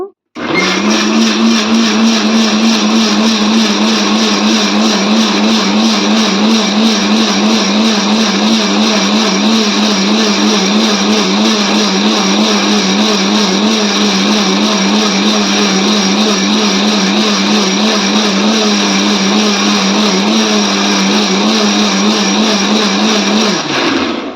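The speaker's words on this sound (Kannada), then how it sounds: "ಹಾಕಿ ಮಿಕ್ಸಿ ಮಾಡ್ಕೋಬೇಕು" A mixer grinder blends mango with sugar and milk, a loud, steady whirring drone that runs continuously at constant pitch for over twenty seconds before cutting off, with no voices.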